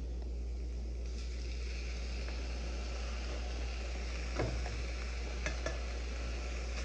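Salmon cooks in a pan with a soft, steady sizzle under a low constant hum, broken by a few brief scrapes and clinks near the end.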